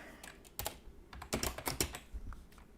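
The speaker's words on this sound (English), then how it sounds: "you can even hear in my keyboard that this is an old keyboard" Clattery keystrokes on an old computer keyboard tap out in uneven bursts, close and fairly quiet, with a slightly hollow, rattly quality.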